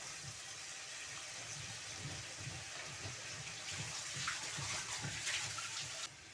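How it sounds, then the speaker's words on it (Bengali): Water runs steadily from a tap while a cooking pot is rinsed and filled for cooking ridge gourd, a close continuous gushing splash with faint metallic knocks that stops abruptly near the end. "ঝাড়টা ধুয়ে জল দিয়ে দিলাম।"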